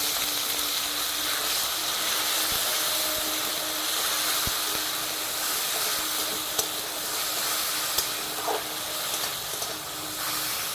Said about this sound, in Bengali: সেই টমেটোটা দিয়ে দিচ্ছি।